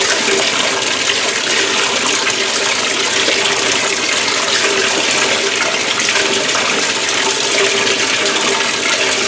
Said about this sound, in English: Put some water in there just to let it drain out.